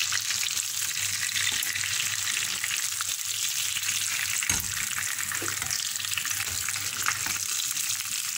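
Chicken escalopes frying in hot oil give a steady, dense sizzle with crackling and occasional small pops, loud and close throughout with no voices.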